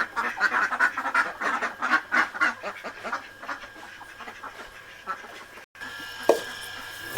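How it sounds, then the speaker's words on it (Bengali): Ducks quacking in a village, with a burst of repeated quacks in the first half that thins to scattered calls near the end, moderately close and with no talking. "আর যে হাঁসগুলা দেখলেন, এই যে সব বাড়িতে এসে পড়ছে।"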